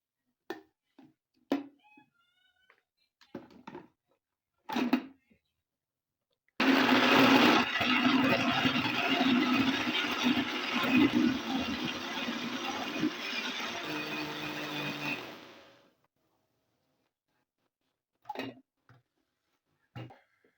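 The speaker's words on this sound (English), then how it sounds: "add my coconut into the blender and add about 2/3 of the water into it and blend smoothly" A kitchen blender whirs steadily for about eight seconds, grinding chopped coconut with water into a smooth mix, a loud continuous motor roar with some rattling. Short clicks and knocks come before and after it.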